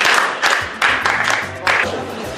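A crowd at a gathering breaks into a few short bursts of clapping, each round swelling and fading quickly, near and moderately loud, with low murmuring voices between them.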